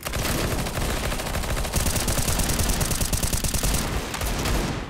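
Desert Eagle pistol fire in Garry's Mod, loud rapid shots in dense clustered bursts that run almost continuously, with more gunfire mixed in during a knife-fight king-of-the-hill match, no voices.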